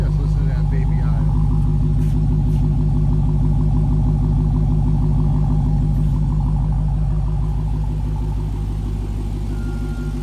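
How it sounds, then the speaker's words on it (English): A 2019 Dodge Challenger SRT Hellcat Redeye Widebody idling up close, its supercharged engine producing a loud, deep, lumpy rumble with a steady pulsing rhythm throughout, with a voice faintly underneath. "Just listen to that baby idle."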